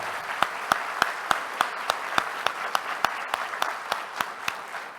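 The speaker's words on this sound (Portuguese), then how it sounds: "Eu queria pedir a ajuda de todos para darmos uma calorosa salva de palmas ao doutor Geraldo Alckmin" Audience applause at the opening of a competitiveness forum, a steady bed of clapping punctuated by sharper individual claps roughly every third of a second, moderately loud and continuous with no talking.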